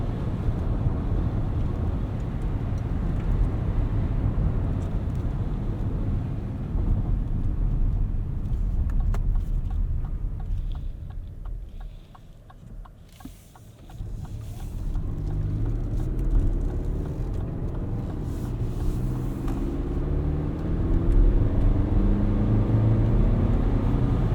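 A 2024 Lexus TX 500h F Sport hybrid cruising on a highway at night, with a steady cabin rumble of road and tire noise that dips briefly midway and returns, plus a few faint clicks.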